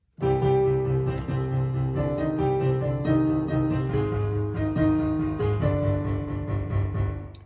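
Solo piano plays the first two parts of a Five Nights at Freddy's song back to back, both hands together, in steady sustained chords and melody with no talking, loud and close throughout.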